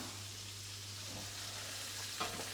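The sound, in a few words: steak frying and being basted in a pan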